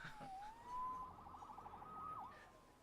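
Police siren from the Spider-Man PS4 video game, a wavering electronic wail sweeping up and down over a few seconds, fairly faint and heard alone without talk.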